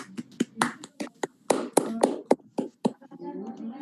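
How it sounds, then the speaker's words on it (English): A few people clap during a webinar, a sparse run of sharp, separate hand claps in an uneven rhythm that thins out toward the end. "Give applause to the paper number 26."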